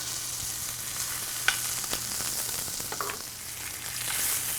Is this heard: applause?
no